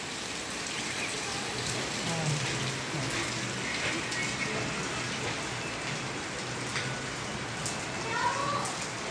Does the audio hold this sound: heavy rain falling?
yes